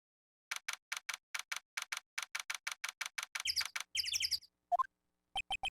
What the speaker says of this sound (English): GBA bit-crushed bird noises